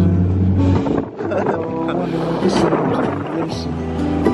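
Sailboat engine runs steadily off Santa Monica, a low harmonic motor drone with shifting pitch under wind and water noise, with voices talking nearby.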